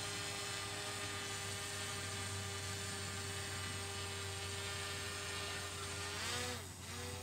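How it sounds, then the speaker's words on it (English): DJI drone hovering at about 20 meters, a steady high-pitched propeller whine with a constant hum, heard clearly and evenly, with a slight pitch dip near the end. "Hover the aircraft at a high altitude,"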